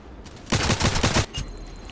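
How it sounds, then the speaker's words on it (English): Gunfire in the online shooter Contract Wars: a loud rapid burst of about six or seven close shots lasting under a second, then a single trailing shot. "So I see one guy shooting now from the right."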